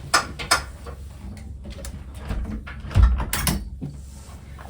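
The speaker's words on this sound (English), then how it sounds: "My mum's got some pallets and she's building something in the garden. She's just taking them apart. It's really loud." Wooden pallets being pried and knocked apart outdoors in a garden, giving scattered clattering knocks, creaks and a heavier thump midway, moderately close with no talking.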